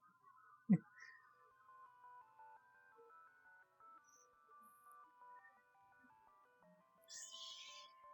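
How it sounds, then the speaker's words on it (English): A mobile phone ringtone plays a quiet electronic melody of stepped tones for several seconds, with a sharp knock near the start and a brief noisy burst near the end. "That was my phone you just heard."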